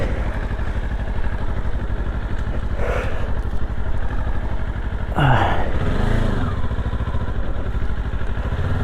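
A Kawasaki KLE 500 SE motorcycle engine runs steadily with a low, throbbing rumble throughout, plus a couple of brief clunks and a faint rise in revs near the middle.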